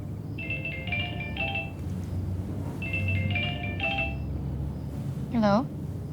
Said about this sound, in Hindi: विशाल, तुम मुझे दूसरे नंबर से फ़ोन कर रहे हो ना?